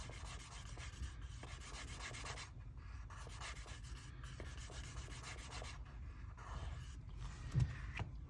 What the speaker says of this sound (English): Just get that sanded up a little bit to try to get the best edge we can on there.